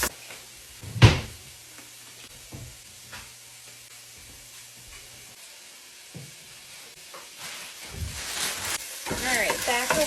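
Garlic, ginger and white wine vinegar cook in a pan with a soft, thin sizzle, broken by a loud cupboard knock early on and brief clatters, with quiet talk toward the end.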